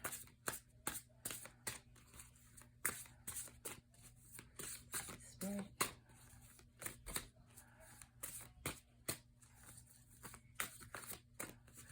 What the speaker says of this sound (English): I'm not the best shuffler anyway, and the big cards make it harder.